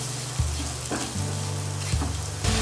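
Vegetables and spices sizzling and frying in a pan while being stirred, a steady loud sizzle broken by several scraping stirs, no talking.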